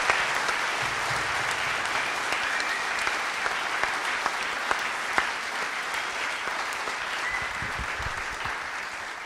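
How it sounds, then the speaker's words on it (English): Applause from a live audience, a sustained, even wash of many people clapping with a few sharper individual claps standing out, fading slightly at the end. "So now you can applaud for John Moores University."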